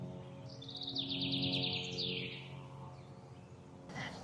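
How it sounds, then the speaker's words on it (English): Faint bird song with a rapid series of high chirps rising and falling, heard over soft outdoor ambience, followed by a brief burst of noise. "where I can hear the birds chirping"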